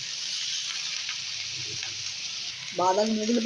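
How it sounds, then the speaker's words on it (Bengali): Shredded cabbage joins prawns frying in a pan, and a steady, moderate sizzle carries on close by throughout, with a voice briefly coming in near the end. "এখন আমি কপিগুলোকে দিয়ে দেবো, বাঁধাকপিগুলোকে"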